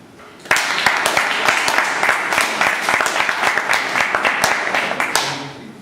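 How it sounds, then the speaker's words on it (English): A Toastmasters meeting audience applauds steadily for about five seconds, a dense wash of many hands clapping with a sharp start just after a brief pause, then fading out at the end. "Could you please give a round of applause for Toastmaster Bosco?"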